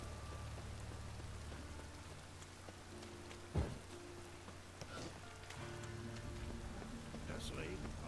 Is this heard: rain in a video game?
yes